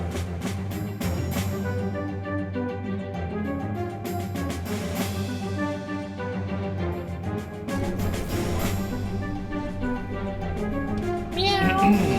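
A black cat meows in the Ratchet & Clank: Going Commando video game, its cries heard over a dense, steady game soundtrack, with a sharper meow near the end.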